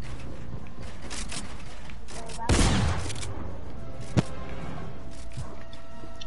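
Thompson submachine gun fired in a video game: a burst of rapid automatic shots followed by a single sharp report, heard over game background noise.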